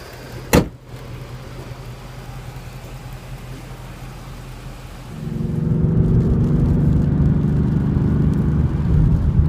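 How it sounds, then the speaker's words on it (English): A 2015/2016 Ford Mustang GT fastback with a 5.0L V8 and six-speed manual starts with a sharp thud, idles as a low steady hum, then its engine note swells into a louder, rising drone as it pulls away on a drive. "So the Mustang GT accelerates very quickly."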